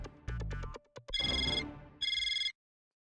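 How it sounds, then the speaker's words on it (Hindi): Telephone ringback tone while placing a call, two bursts of electronic ringing after a few short beeps, close and clear with no talking. "लगा पीयूष भाई को फोन लगा।"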